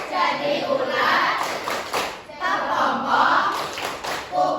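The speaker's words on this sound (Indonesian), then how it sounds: "Untuk memudahkannya kita tepuk kupu-kupu." Children in a classroom clap along to the butterfly clapping song, close, loud rhythmic hand claps mixed with their chanting voices.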